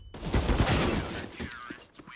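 MP9 submachine gun bursts in a Counter-Strike match, quick rapid shots up close under a caster's excited commentary.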